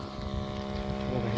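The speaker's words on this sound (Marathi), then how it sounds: "पंप चालू करायचा." A 15-litre sprayer pump runs steadily, pushing sulphuric acid water through drip irrigation lines, a continuous close motor hum with a buzzing tone that holds level throughout.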